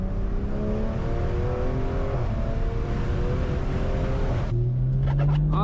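A tuned BMW M340 with a Stage 2 tune and loud exhaust drones steadily at close range, its engine note rising in pitch, then sweeping past with a sudden drop into a deeper, lower tone.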